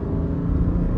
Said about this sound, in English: And now I'm going to close the valves and step on it again.